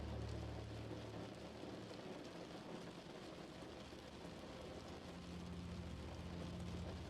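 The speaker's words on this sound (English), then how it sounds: "you only attend to the sound of the rain" Rain falls steadily against a window, a dense, even hiss of drops at moderate volume with a low rumble beneath, continuous and without any voices.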